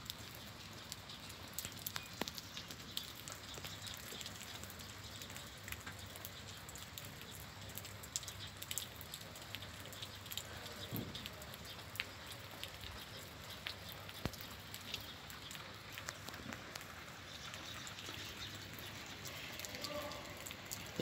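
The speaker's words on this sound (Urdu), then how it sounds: "بارش کی آواز آ رہی ہے" Heavy rain falls around a car parked at the back of a parking area, a steady, dense patter of drops continuing evenly from start to finish with occasional sharper taps and no voices.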